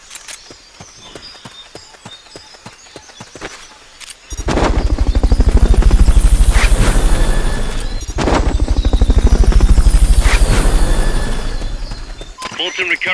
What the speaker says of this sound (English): Fulton recovery helicopter.